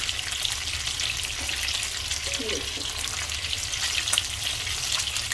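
Fish pieces for Sindhi seyal fish frying in hot oil, a steady close bubbling sizzle with crackle running throughout, no speech.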